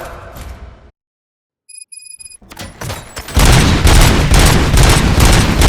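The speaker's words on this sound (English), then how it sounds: "Gunshots? What's going on?" Rapid bursts of gunfire and booms in the video game Robocop: Rogue City, starting after a short pause and a few electronic tones, then building into loud, sustained automatic fire with heavy impacts.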